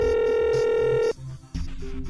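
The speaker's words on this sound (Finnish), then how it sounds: "Haluan soittaa mun parhaalle kaverille Jeesukselle." Telephone tones from a handset sound for about a second, a steady electronic tone ending abruptly, followed by brief quiet and then clicks and muffled noise on the line.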